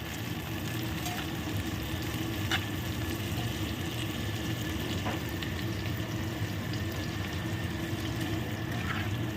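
Onion, tomato and garlic frying in hot oil for a fish dish, a steady dense sizzle with occasional faint clinks, continuous and close with no talking.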